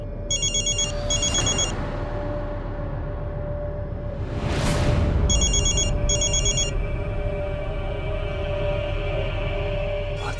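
A mobile phone rings indoors in repeated bright electronic trill bursts, pausing for a loud whoosh in the middle before ringing again, over a steady low background hum.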